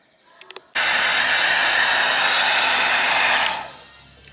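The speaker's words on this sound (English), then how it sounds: "So I got the heat gun down there, so let's get her all done up." After a few faint clicks, a heat gun starts abruptly and blows a loud, steady, breathy roar for about three seconds while shrinking heat-shrink tubing on car stereo wiring, then winds down and fades out.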